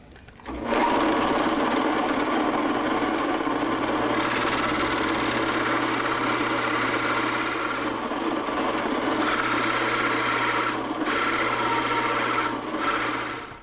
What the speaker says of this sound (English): this countersink hole that I'm doing here is going to let the chuck on my drill press actually go down